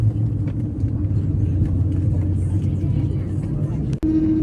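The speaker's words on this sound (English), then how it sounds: "But soon we are taxiing and bound for the runway." Widebody airliner taxiing toward the runway, a steady low engine rumble and hum inside the cabin, constant and fairly loud, with a voice talking over it.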